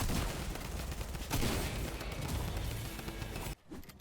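Rapid bursts of gunfire ring out during a fight in Fortnite, dense overlapping shots and impacts that cut off abruptly near the end.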